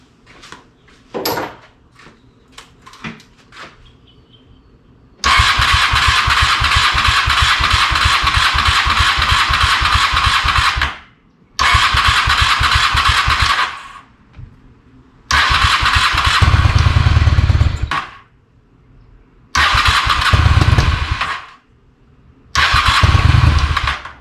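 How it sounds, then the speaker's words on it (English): A 1997 Honda Shadow VT600C VLX motorcycle under carburetor rebuild and repair: a few light clicks, then five loud, close bursts of engine cranking and starting, each roaring steadily for a few seconds before cutting off into brief silence. "I'm going to go ahead and see if it cranks over."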